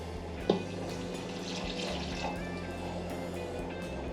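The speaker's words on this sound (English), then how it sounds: "We're going to go ahead and add a little bit of apple cider vinegar, another cup of beef stock" Apple cider vinegar and beef stock being poured into a cooking pot, heard as a soft, continuous liquid pour with trickling and splashing. A faint knock sounds near the start, all at fairly low level.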